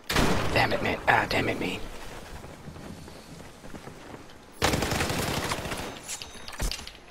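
Battlefield 4 gunfire crackles in sharp, dense bursts, with a heavy volley at the start and another near the end, while someone talks and curses over the shooting.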